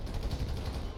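Video game combat with rapid bursts of gunfire and explosions, muffled and fairly faint, rattling without pause for about a second.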